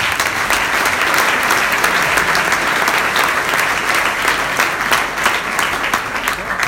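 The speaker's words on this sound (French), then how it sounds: "Merci de les applaudir" Loud, sustained applause fills a dinner hall as a large audience claps together, a thick rhythmic rush of hands lasting several seconds with no talk over it.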